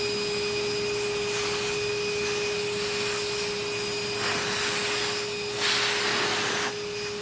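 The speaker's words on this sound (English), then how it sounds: "I'm using the vacuum to kind of suck up the dust as I go" A shop vacuum hose sucks up dust and residue while glass is being cleaned, giving a steady, close whine with a constant hum and a slight rise in rushing airflow near the end.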